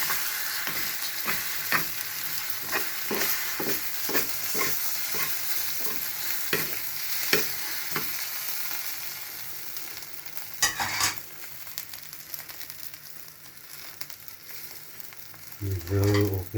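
Potatoes and egg fry in a pan, a steady sizzle broken by repeated scraping strokes of a utensil stirring and turning the food, louder clattering near the end.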